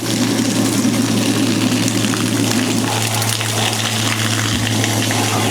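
A Camplux tankless water heater in a tiny house fires up with hot water running through its 1/2-inch supply lines, making a steady, close rushing flow over a constant low burner hum.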